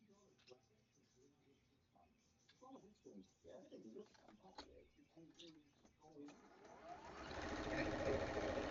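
A sewing machine stitches a cream-colored fabric piece onto a quilt block, its steady mechanical whir building over the last couple of seconds after quiet handling noises and a voice talking.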